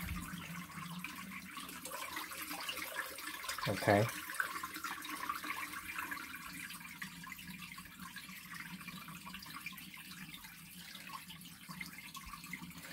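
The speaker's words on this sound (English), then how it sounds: "You just take the tube out and lay it out, the water just come out like that" Water draining out of a Costway portable washer's drain tube, a faint continuous trickle and gush, with a brief spoken word partway through.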